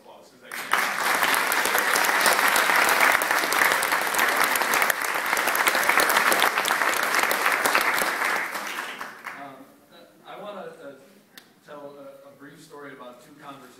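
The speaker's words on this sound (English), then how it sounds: "I think they all deserve a round of applause" Loud, sustained applause from an audience at a legislative bill signing for the Massachusetts Transgender Bill of Rights, lasting about eight seconds before fading as a speaker resumes talking.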